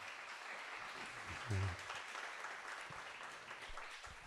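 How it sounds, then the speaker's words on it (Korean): Church congregation at a Friday worship service clapping in encouragement after a testimony, a continuous faint wash of applause heard from a distance, with a brief low vocal sound partway through. "더 큰 박수로 격려해 주시기 바랍니다."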